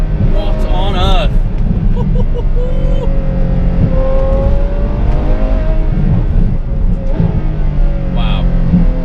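A 2016 Ferrari F12 sports car engine revs loudly and close by, rising and falling in pitch over several seconds, with people talking over it.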